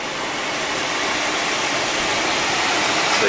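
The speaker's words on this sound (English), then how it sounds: "So you can hear the front blower" Front blower fan running in a Sprinter van, a steady broadband rush of air that holds at an even, fairly close level throughout with no talk over it.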